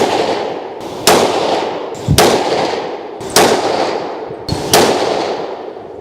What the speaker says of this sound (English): we have the 36 grain load to shoot, 5 rounds